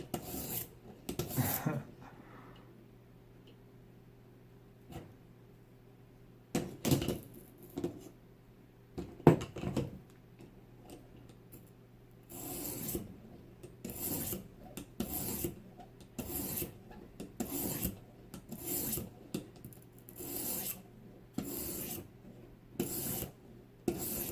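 A knife is drawn across a Vipersharp sharpener stone in repeated rasping strokes, some in quick bursts and others spaced apart, with quiet gaps between passes.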